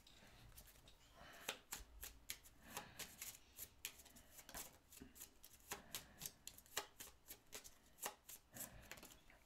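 Playing cards for a Smash Up game are shuffled by hand in a rapid run of crisp riffling bursts, faint and close, repeating irregularly with no speech.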